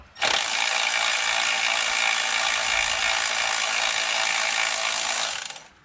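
A ratchet clicks in one steady, close, continuous run while backing out 10 mm bolts on the 2.4 engine of a 2010 Honda Accord, with no talking.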